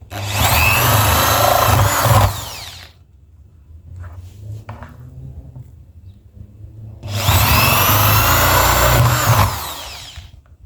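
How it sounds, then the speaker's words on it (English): A power drill whirs loudly in two long bursts, biting into a plastic garden container with a gritty edge, separated by a quiet pause with faint handling noises. "drilling the holes, I'll just follow the holes that are already on the container"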